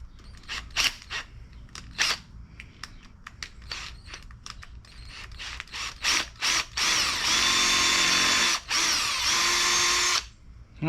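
Power drill boring a hole through the plastic cap of an oil jug, with short stop-start trigger bursts and clicks building to two longer, loud continuous whirring runs close by.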